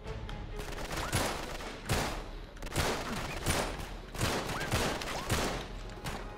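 Rapid bursts of video game gunfire from Uncharted 3 crackle and pop repeatedly in a busy, continuous barrage, fairly quiet overall, with no talking.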